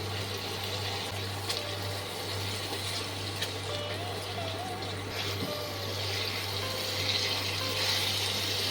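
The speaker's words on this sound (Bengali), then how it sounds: "এবার এক কাপ জল দিয়ে দিচ্ছি" A cup of water is poured into a cooking pot of Bengali-style dhokar dalna with matar dal over a low flame, a steady close rush of liquid lasting several seconds under a constant low hum.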